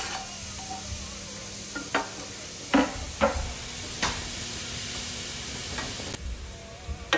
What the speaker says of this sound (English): Onion to your saucepan. You hear that sizzle?